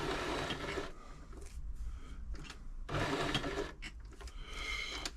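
An Elna 3007 sewing machine runs a zigzag stitch in bursts, its mechanical whirring and rapid needle clatter starting and stopping several times at close range.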